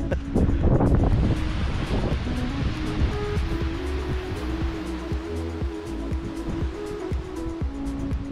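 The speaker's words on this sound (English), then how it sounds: "Now the sun is shining and the sky is mostly blue, but still, it's windy" Steady wind buffeting a microphone in Lofoten, Norway, a broad rushing roar with low rumbling gusts that stays loud throughout, with no voices.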